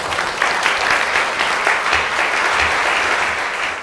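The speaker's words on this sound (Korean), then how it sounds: "큰 박수로 맞아주세요." A seated audience at a Korean book concert claps steadily and warmly to welcome a psychology professor onto the stage, a dense, sustained round of applause that tapers slightly near the end.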